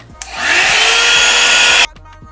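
Amazon hot air brush running on its middle heat setting, a steady loud fan-and-air whoosh that starts abruptly, holds evenly for over a second, then cuts off sharply.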